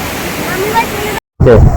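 A waterfall in Alluri District roars as a constant, broad rush of falling water for just over a second, then cuts off abruptly before a voice begins speaking.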